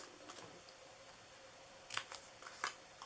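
Scissors snip through paper while a DIY fall mug box is being made, giving a few short, crisp cuts in quick succession near the end after a quiet stretch.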